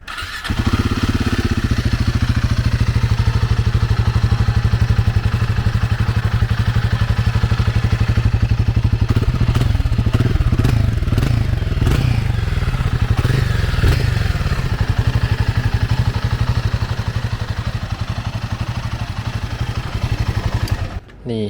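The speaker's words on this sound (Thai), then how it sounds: "เดี๋ยวเราต้องมาเปิดสวิตตัวรถก่อน แล้วก็กดปุ่มสตาร์ท" A Royal Enfield Himalayan 450 adventure motorcycle is started with its button and settles into a loud, steady running thrum, heard up close for about twenty seconds with a few clunks midway.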